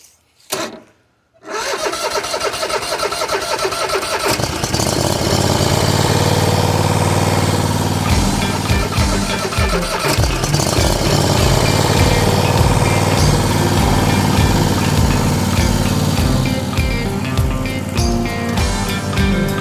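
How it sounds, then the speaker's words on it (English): A riding mower engine that will tow a DK2 stump grinder cranks briefly, catches, and settles into a loud, steady running drone close by for the rest of the stretch, with no voices. "You can go forwards or backwards with the mower, and now we'll show you how to tow it"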